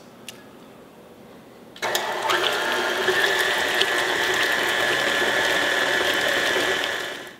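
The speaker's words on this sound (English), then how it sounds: "1 whole egg, and I'll mix this on medium for about 2 minutes" A stand mixer runs on medium speed mixing bread dough with egg and vegetable oil, starting after a brief click into a steady, loud mechanical whir with gear-like rattling that holds until it winds down at the end.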